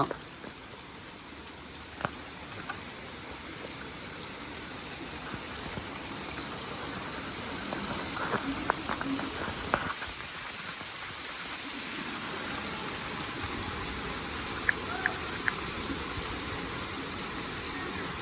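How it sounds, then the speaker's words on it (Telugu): Light drizzle falling outdoors in Madanapalle, a steady soft hiss of rain with occasional faint drops and clicks, no speech. "ప్రస్తుతానికి అయితే తుంపర"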